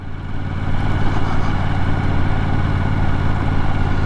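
A Yamaha R7 motorcycle ridden on a dirt track off-road, its engine a steady, loud mid-pitched drone with constant low rumble and no pauses.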